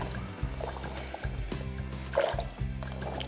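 Beans and water poured into a pot with pork rind for cassoulet, a soft liquid splashing and gurgling in uneven pulses over a low rumbling background, fairly quiet.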